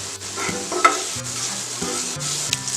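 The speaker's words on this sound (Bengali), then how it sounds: "পেঁয়াজ লাল হওয়ার আগ পর্যন্ত আমরা একটু ভাজি" Chopped onion frying in hot oil in a pot for khichuri, a steady close sizzle with a few soft scrapes and taps of a spoon through the short stretch.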